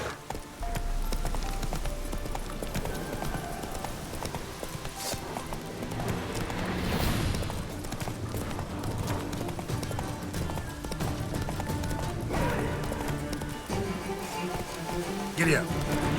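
Roach, the horse in The Witcher 3: Wild Hunt, gallops with steady rhythmic hoofbeats under game music and other sound effects, with occasional louder accents.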